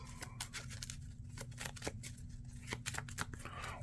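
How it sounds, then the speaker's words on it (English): A deck of Marvel Champions cards being shuffled up close, a run of quick crisp riffling snaps and soft slides under a low constant hum. "So let's shuffle this."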